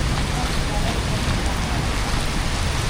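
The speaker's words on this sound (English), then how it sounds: "The rain is getting heavier again." Heavy rain pours down steadily in Hatyai, a dense, even hiss of drops close by with no letup.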